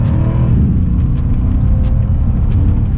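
Mercedes C63 AMG engine during quick paddle downshifts, a loud, steady low rumble close up with revving surges throughout and no talk.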